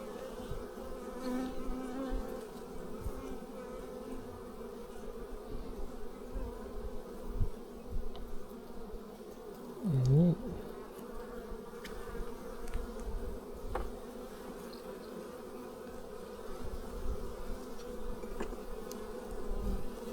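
Honeybees buzz steadily around hives in the remote New Zealand bush, a dense continuous low hum with individual bees passing close now and then.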